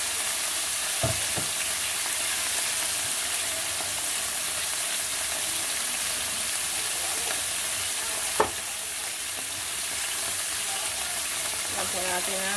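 Small squid sizzle steadily in a hot pan with vinegar, a continuous close hiss with a few clinks and scrapes of stirring.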